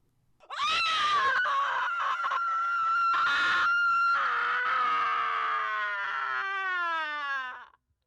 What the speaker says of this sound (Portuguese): Um grito desesperado de mulher.